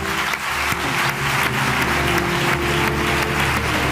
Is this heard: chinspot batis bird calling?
no